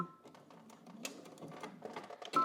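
Sewing machine stitching stretch fabric for leggings, a close, soft run of rapid mechanical clicking that builds toward a louder stop at the end.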